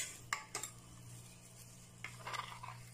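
A spatula scrapes condensed milk from its container into a soursop ice cream mixture, giving a few short clinks and scrapes against the dish over a steady low hum.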